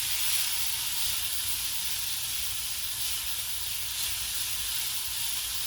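Tomatoes sear on a grill, giving a constant, close, even sizzling hiss that holds steady throughout with no speech over it.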